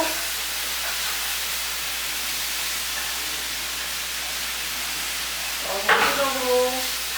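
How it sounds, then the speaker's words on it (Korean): Meat stir-fries in a hot pan for Korean radish jangajji, a steady, close hiss of sizzling that runs throughout, with a voice briefly speaking near the end. "한쪽으로 고기를 볶아주세요"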